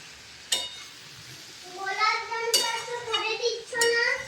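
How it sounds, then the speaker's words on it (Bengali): Cabbage with chana dal sautéed and stirred in a pan for a vegetarian dish, giving soft sizzling and scraping under a singing voice, with a few sharp utensil clinks on the pan. "চলো এভাবে আস্তে আস্তে কষিয়ে কষিয়ে এটাকে রান্না করবো।"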